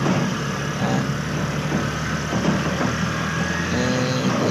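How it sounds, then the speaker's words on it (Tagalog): A tricycle with a noisy, rattling sidecar drives over a rough, potholed road, giving a steady close engine drone with constant rumble and clatter and no talk. "Sobrang ingay ng sidecar ng tricycle."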